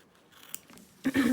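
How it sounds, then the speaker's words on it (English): Quiet snipping and crunching of scissors trimming stiff embroidery stabilizer from the back of a zipper, with a louder burst of cuts near the end. "trim off our stabilizer from the back of our zipper"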